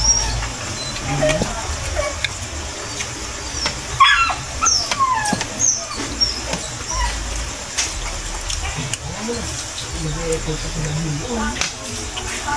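Dogs whimper and yip amid constant background noise, with people talking over them; the yelps come in short, scattered bursts throughout.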